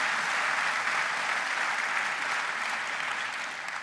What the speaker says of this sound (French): Vous pouvez applaudir le rectorat